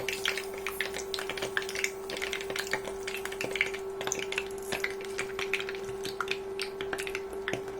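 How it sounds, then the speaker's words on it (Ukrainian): Oil crackling and sizzling in a pan, with constant small pops and spits over a low steady hum, fairly quiet and close. "Поїхали смажити, жарити, смажити"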